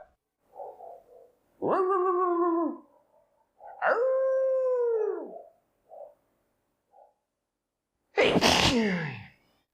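A dog gives a sharp sneeze near the end, after several loud, drawn-out howl-like vocal sounds and a few small snuffles, close and clear with no speech.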